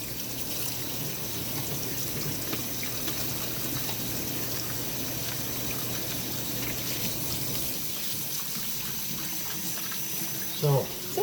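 Hot tap water runs steadily in a home kitchen while dog food is being made, a continuous faucet hiss with some speech mixed in and a brief clatter near the end.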